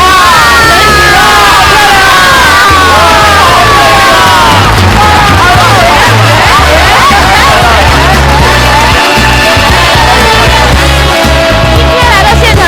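A studio audience claps and cheers loudly for Shanghai Yue opera performers taking the stage, a dense roar of applause with whoops and yells throughout.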